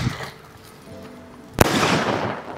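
A sky-bursting Diwali firecracker from Sivakasi goes off with a single sharp, loud crack after a faint fizzing lead-up, followed by a brief noisy decay.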